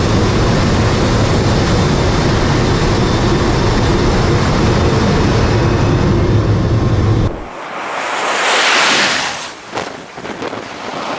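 Jet or military aircraft roaring loudly at takeoff with heavy broadband rumble and wind buffeting, cutting abruptly to quieter airy rushing as it lifts off and becomes airborne.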